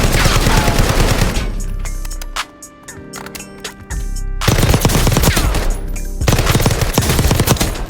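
Rapid, loud automatic gunfire from a Warzone loadout at the in-game firing range rattles in long bursts, breaks off briefly for a quieter stretch with a few single shots, then resumes in dense sustained strings.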